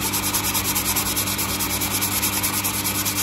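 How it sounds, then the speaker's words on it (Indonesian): Homemade carbon fiber being hand-sanded with 240 grit sandpaper in a steady, rapid back-and-forth rubbing that stays loud and close throughout. "So sekarang kita kena gosok balik."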